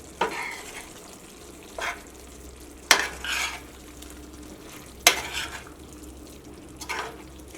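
A soya chunk curry with vinegar is stirred in a pan, bringing a few spaced scraping, clattering strokes over a faint simmering sizzle, close but fairly quiet, with no talking.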